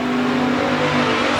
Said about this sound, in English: Lacey continues to be your leader, with Marshall currently running second